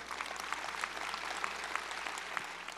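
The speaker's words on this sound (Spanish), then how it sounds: "Un aplauso para Rosa." An audience at a religious talk gives a brief round of applause, moderately loud and steady, with scattered individual claps standing out.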